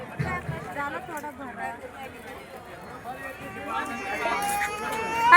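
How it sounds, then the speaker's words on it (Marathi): A crowd of customers at a weekly Diwali market in the evening fills the air with a dense babble of overlapping voices and chatter, growing slightly louder toward the end. "साडेआठ वाजल्या तरी ग्राहकांची गर्दी ही बाजारामध्ये आहे"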